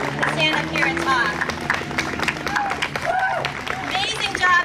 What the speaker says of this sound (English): Let's give a huge round of applause to the speakers so far, especially to the students.